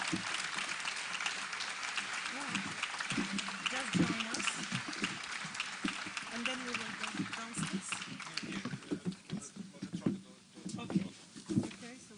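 A graduation ceremony audience claps a final round of applause for the honoured students, dense and steady clapping that carries on throughout, with scattered voices and cheers mixed in toward the end.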